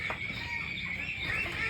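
Chickens clucking close by in a duck pen where young ducklings are being fed, with steady poultry calls and farmyard noise running through the short stretch.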